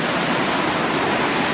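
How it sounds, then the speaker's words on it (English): Steady broadband rush of a waterfall on a creek in Tasmania, loud and continuous with no other sounds. "And another falls just down there."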